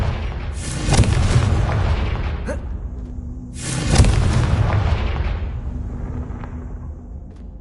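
Two heavy booming blasts from the Confringo fire spell in the Hogwarts Legacy video game, each a loud broadband burst that rumbles and decays over a few seconds, with faint game ambience between them.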